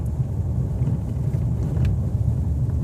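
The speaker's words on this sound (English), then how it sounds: "You can probably hear me hitting these bumps." A 2015 Nissan Frontier truck rolls over a rough road, heard as a steady low cabin rumble with muffled thumps from the bumps, loud and continuous with no talking.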